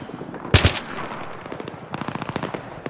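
Machine gun fire in the Battlefield 3 campaign, a loud sharp burst followed by a longer run of rapid rattling shots, with no talk.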